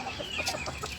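Young Sebright and Texas chickens, about one month old, cluck in short, close bursts, a few soft calls overlapping within a second.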